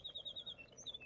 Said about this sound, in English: Wow, that bird is really annoying.